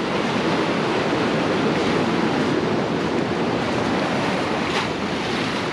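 Ocean waves breaking on the rocky shore at Bodega Bay on the California coast, a steady loud roar of surf with wind buffeting the microphone throughout, with no speech.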